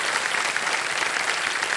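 A studio audience on KBC breaks into dense, loud, continuous applause, many hands clapping steadily with no pause.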